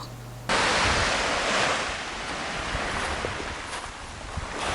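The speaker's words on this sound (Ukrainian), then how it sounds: "І я записала плескіт моря, щоб він трошки вас відволік від цих тривог." Sea waves wash and splash steadily against the shore, a continuous broadband surf roar with no voices, following a brief quieter moment at the start.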